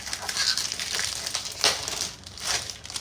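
Crinkly plastic perfume packaging being torn and crumpled open in quick, hurried bursts, a continuous close-up crackling rustle with sharper tearing peaks throughout.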